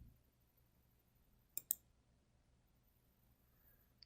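Two quick computer mouse clicks in a quiet room, sharp and close, followed by one more faint click at the end over a low background hum.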